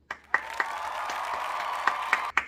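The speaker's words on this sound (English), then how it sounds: "Can we just get a clap for that?" A small audience claps sparsely during a talk show, producing a handful of scattered, separate claps over a steady background hum, fairly quiet and without voices.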